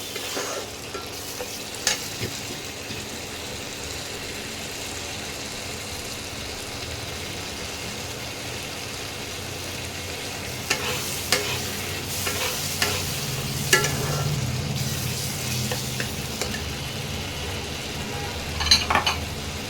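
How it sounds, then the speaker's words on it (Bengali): Spice paste mixed with yogurt for Banarasi mutton fries in a pot on raised heat, a low continuous sizzle broken by clusters of scraping stirring strokes and light utensil knocks, mostly in the second half; nobody talks. "আমি টেম্পারেচারটা বাড়িয়ে দিলাম মশলাটাকে ভালো করে কষিয়ে নিতে হবে"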